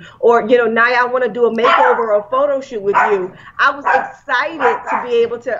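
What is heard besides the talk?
dog barking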